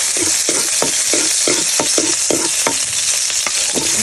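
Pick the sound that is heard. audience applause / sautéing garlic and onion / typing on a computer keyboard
sautéing garlic and onion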